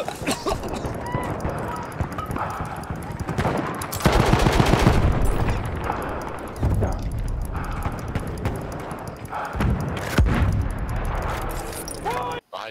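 Automatic gunfire in the Battlefield 1 shooter, rattling bursts recurring across the stretch among dense battle noise, with players talking over it.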